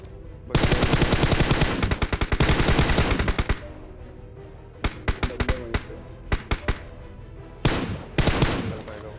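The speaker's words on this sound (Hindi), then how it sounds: "हमें कुछ फायरिंग के साउंड इधर की तरफ से आते हैं" BGMI gameplay with loud bursts of rapid automatic gunfire, first a long sustained burst, then scattered shorter volleys and single shots with gaps between them, and a final burst.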